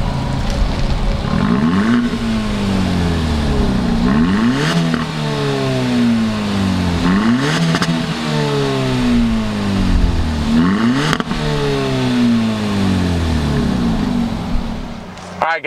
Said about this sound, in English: let's go ahead and fire this one up with the 201 horsepower.